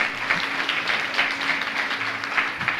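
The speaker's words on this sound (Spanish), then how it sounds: "Fuerte ese aplauso al Señor." Church congregation applauding during a worship service, steady, full clapping from many hands that continues evenly throughout at a fairly close, loud level.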